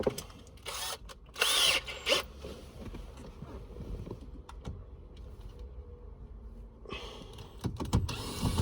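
A power tool works on the ignition lock solenoid of a Chevy, giving a close, loud whirring burst followed by quieter clicks and scraping, then another short whir at the end.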